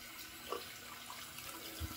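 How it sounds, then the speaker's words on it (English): Warm water runs steadily from a bathroom tap into a sink to warm a washcloth, a faint, even trickling hiss that is heard alone throughout. "Running the warm water in the sink to get my washcloth warm."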